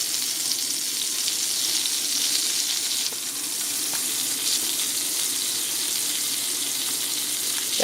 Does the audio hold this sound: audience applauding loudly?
no